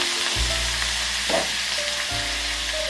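Shrimp fry in a hot pan, giving a steady close sizzle throughout with a brief burst of louder crackle partway through and no one talking.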